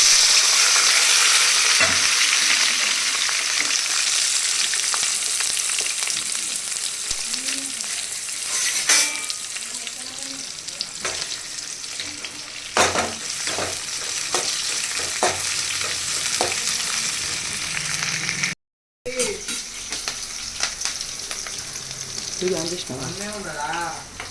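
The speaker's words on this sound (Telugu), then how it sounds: "ఇప్పుడైతే మనం ఆనియన్ అండ్ మిర్చి వేసేద్దాం." Onion and green chilli sizzling in hot oil with whole spices for gongura chicken, a loud, continuous frying hiss with occasional stirring clinks and a brief dropout, voices faintly present near the end.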